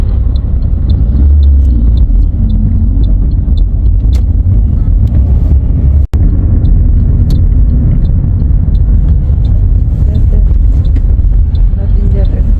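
Riyadh road traffic heard from inside a moving car, loud continuous low rumble with faint periodic ticking, a brief sharp click midway, and occasional voices underneath.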